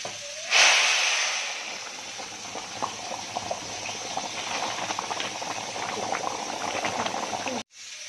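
Hot water poured onto sautéed rice in a pot hits with a loud burst of hissing, then settles into a steady bubbling boil with crackles that runs several seconds before cutting off abruptly.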